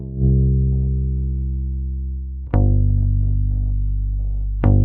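A direct-input bass guitar run through a multi-band compressor, playing sustained, evenly loud low notes with clear harmonics, changing pitch twice with sharp plucked attacks.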